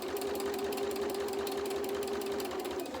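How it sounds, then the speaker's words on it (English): Sewing machine fitted with a walking foot stitching a dart in dress fabric, a steady rapid mechanical whirring hum with a fast knocking pulse, close and continuous throughout. "That walking foot's noisy, but it's doing its job."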